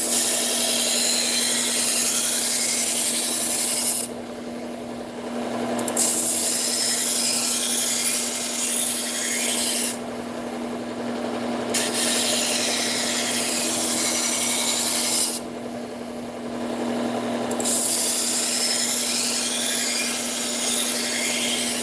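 A knife is drawn across a sharpener in long continuous grinding passes, loud and close, separated by three short pauses, with no talking.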